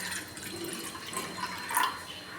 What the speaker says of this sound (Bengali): চিড়েটা ভালো করে ধুতে হবে